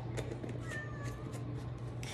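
A house cat meows a few times in a home kitchen while roast lamb is being prepared, short thin cries over a steady low hum and background clatter.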